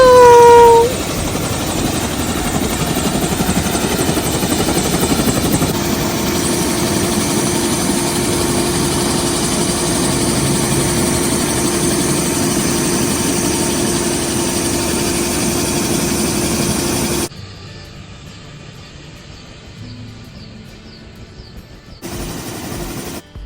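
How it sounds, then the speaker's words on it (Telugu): A helicopter's engine and rotor roar loudly and steadily up close during a vertical lift-off on a glacier tour, then drop sharply to a much quieter rumble. "helicopter take off vertical lift of లాగా అనిపిస్తుంది"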